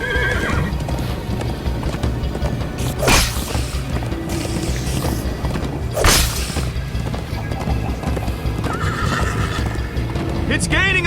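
Hooves clip-clop in a fast, steady gallop through a Minecraft: Story Mode ride, with horses whinnying loudly twice, swooshing effects and characters talking over the pounding hoofbeats.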